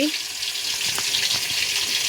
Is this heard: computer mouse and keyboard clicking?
no